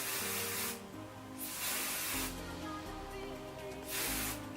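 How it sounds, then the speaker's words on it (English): Hairspray from an aerosol can misted through freshly brushed curls in short bursts, three close hissing sprays separated by brief pauses, loud and alone. "And then I'm going to take my hairspray and just"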